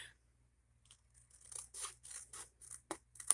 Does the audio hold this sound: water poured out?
no